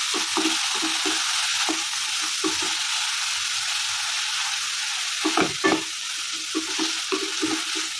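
Fish curry ingredients are stirred in a sizzling pan, with a constant hiss of frying. Scraping strokes of a spoon come in irregular clusters, close by.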